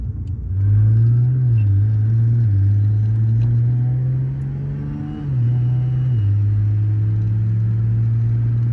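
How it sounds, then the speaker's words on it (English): A 1100 hp Nissan Skyline GT-R with an 8-speed AWD setup in Sports Auto mode revs loudly and close up, pulling through several gears with audible shifts and a steady rumbling drone between them. "So we've set up Sports Auto just to rev the gears out a little bit more"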